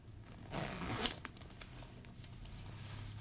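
A single quick pull of a big, chunky zipper on a nylon bag, close and moderately loud, followed by a few faint rustles and light taps of fabric handling.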